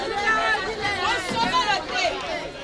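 Dense crowd at the Gouro market in Yopougon, a close busy babble of many voices with shouts and movement.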